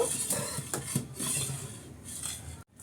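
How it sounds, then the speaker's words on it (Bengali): A spoon stirring malai zarda in a metal pot, with repeated scraping and clinking strokes against the pot close by, steady and uninterrupted, ending abruptly. "অনবরত নেড়ে চেড়ে এটা আমি রান্না করে নেব"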